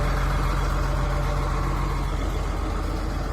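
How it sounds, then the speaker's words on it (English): A John Deere 8335 RT tracked tractor pulling a disc on Australian farm ground, its engine droning steadily and loudly at close range for the whole stretch, low rumble without pause and no talk over it. "8335 RT, new tractor with big tracks."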